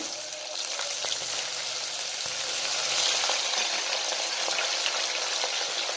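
Finely chopped pumpkin, potato and brinjal fry in a pan for a South Indian breakfast dish, giving a dense, continuous sizzle with crackling pops throughout, close and steady, with no talking.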